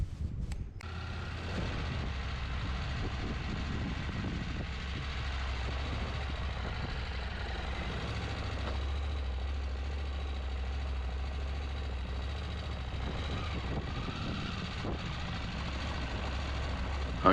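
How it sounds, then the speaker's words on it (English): A KTM 890 Adventure R motorcycle engine idles while warming up, a steady low rumble with a constant even drone held close and unchanging throughout. "just give the bike a little while to warm up"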